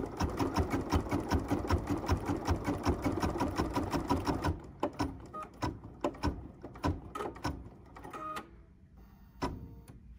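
A BERNINA embroidery machine stitches stumpwork in a fast, steady mechanical rhythm for several seconds, then stops and gives a few scattered clicks and short runs close by.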